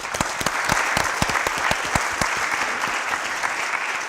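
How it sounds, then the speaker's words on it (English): A small audience claps for several seconds at a Nashville singer-songwriter event, with sharp individual handclaps standing out close by over a fuller spread of applause. "Give them a round of applause"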